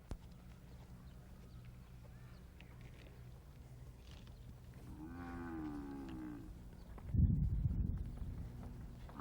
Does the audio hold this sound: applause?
no